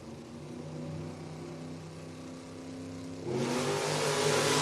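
Heads-up drag race cars at a Door Wars event rev with steady engine tones, then launch into a sudden, loud full-throttle roar down the strip.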